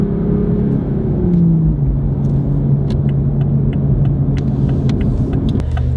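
Engine of a manual Toyota Supra rev-matching through downshifts from fourth to third to second, a steady close loud drone with pitch shifts and brief blips as the gears change, no talk.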